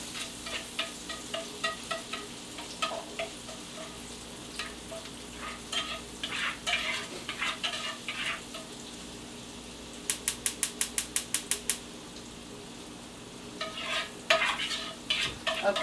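Butter melts in olive oil in a pan with a low, continuous sizzle, joined by scattered clicks and scrapes and a quick run of rapid ticks partway through, all fairly quiet and with no talking.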